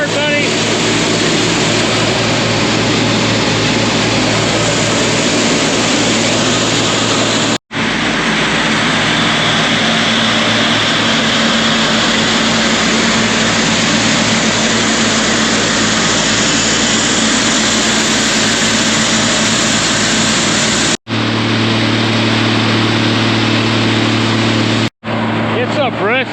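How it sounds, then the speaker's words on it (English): A farm grinder processes high moisture corn outdoors on a cold, windy day. Its engine roars in a loud, continuous drone with a few brief breaks, heard up close. "Grinder's working hard, buddy."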